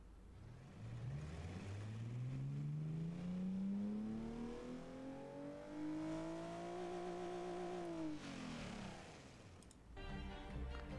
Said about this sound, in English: we can hear this more finalised version of the engine